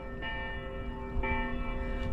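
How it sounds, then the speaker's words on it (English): Church bells ring with clear, sustained metallic tones, a fresh strike landing partway through and layering over the lingering hum. "They've noticed my arrival and they're sounding the church bells."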